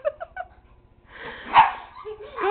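A dog makes a few short yips, then a whining, whimpering bark close by, with panting and light movement noise around it.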